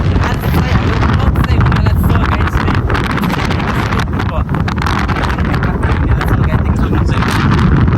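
Strong wind roars and buffets the microphone in a constant loud rumble, with gusts throughout and a voice faintly underneath.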